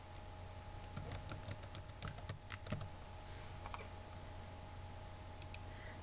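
Computer mouse clicks while working in design software, a quiet, irregular run of light taps and clicks with a faint steady hum beneath.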